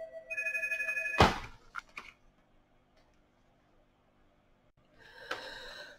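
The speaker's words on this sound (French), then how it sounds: "j'ai été interrompue par le téléphone" A telephone ringtone plays a repeating electronic melody loudly in a quiet room, cuts off abruptly with a sharp clatter, then falls quiet before a brief shorter burst of ringing returns.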